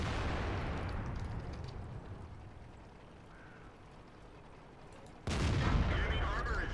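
Tank cannon fire in World of Tanks comes as one sharp, loud blast late on, following a quiet stretch of low rumbling battlefield ambience.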